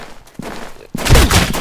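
Gunfire rings out in the survival game Sunkenland: a few single shots, then a loud dense burst of rapid fire, close and harsh.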